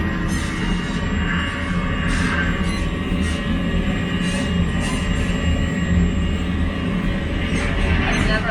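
Boeing 747 airliner engines roar steadily during the takeoff roll, a dense, loud broadband rumble with a constant whine heard from inside the aircraft, sustained without a break.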